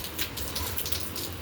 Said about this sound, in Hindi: आप देख सकते हो दूर दूर तक पूरा लगातार बारिश हो रही है